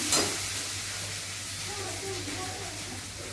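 Food in a pan sizzles as oil is added, a steady hissing fry that opens with a brief sharper burst and then settles into an even, moderate sizzle.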